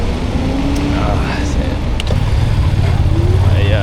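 A motorbike passes along a street in Rio, its engine hum rising and falling over general traffic noise, fairly loud, with wind buffeting in the background.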